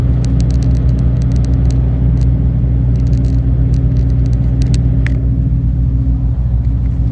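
A car drives along a wide road leaving the town of Ruiselede, Belgium, giving a steady, loud low engine and road rumble with faint high ticks, and no one speaks.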